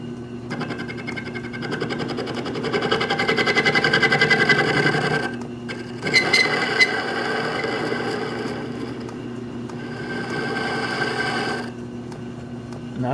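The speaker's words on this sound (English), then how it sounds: "We're going to come in and trim off the face." A machine trims the face of a workpiece on a metal lathe, a steady mechanical whir with a low hum running throughout, loud and close, with a brief dip near the midpoint before cutting resumes.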